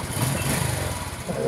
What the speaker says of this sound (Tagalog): Medyo tumahimik yung makina.